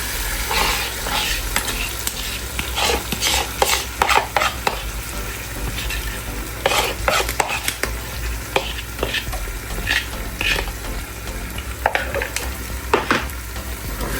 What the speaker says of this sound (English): You want to give this a stir.